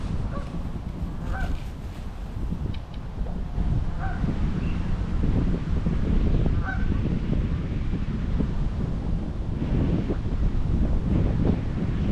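Wind buffets the microphone in a steady roar, with a few honking goose calls in the first half.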